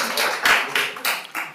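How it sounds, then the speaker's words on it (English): Scattered applause at a city council special meeting, a handful of bursts of clapping from the audience in a meeting room, moderately loud and close, with no talking over it. "please hold your applause"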